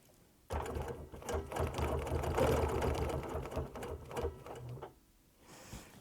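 A sewing machine runs steadily while stitching a quilt block for a Lemoyne Star, a near, continuous mechanical whir lasting several seconds before stopping abruptly, then a brief quieter rustle at the end.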